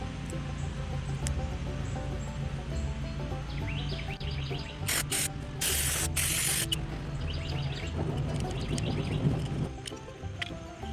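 Cleaner sprays onto a Jeep throttle body in a few sharp hissing bursts, with squeaky, chirping scrubbing and light rubbing close up before and after.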